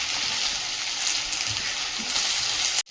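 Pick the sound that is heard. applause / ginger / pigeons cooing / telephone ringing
ginger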